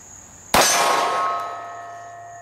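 A pistol round strikes a steel buffalo target at a shooting range, one sharp loud metallic clang that rings on with a fading tonal hum.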